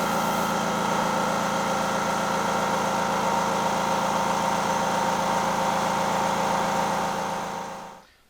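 An airbrush air compressor runs at a steady, continuous hum with a constant mechanical drone and buzz, close and fairly loud, then cuts off abruptly near the end.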